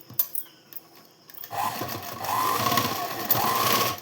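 A sewing machine stitching a blouse starts after a few quiet handling clicks, then runs in a steady, close whirring burst to the end.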